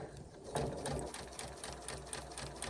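Sewing machine stitching fabric for a bucket hat, a close, continuous whirring hum with rapid needle clatter, steady and alone.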